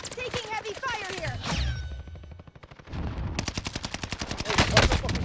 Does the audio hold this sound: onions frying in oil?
no